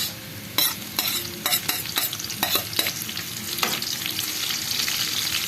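Adobo is stirred in a hot pan with a run of close, sharp scraping strokes over a steady, loud sizzle and no one speaking.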